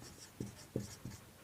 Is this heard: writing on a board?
yes